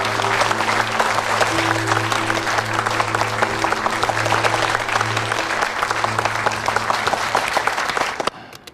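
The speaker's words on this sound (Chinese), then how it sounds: "大家鼓掌" An audience claps in dense, sustained applause, loud and close, with a low steady hum beneath, cutting off abruptly near the end.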